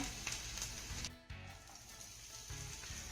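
Garlic sautéing in a pan, steady faint sizzle with a brief dip midway and a slight swell near the end, no voices.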